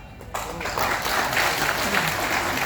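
An audience at a speech event in Jamshedpur bursts into dense, sustained applause that swells after a brief quiet start and holds steady, loud and close, with voices mixed into the crowd noise.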